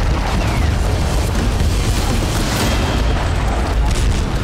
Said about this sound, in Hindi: यूक्रेन के बारूदी धमाके से कजान का इंडस्ट्रियल जोन दहल गया।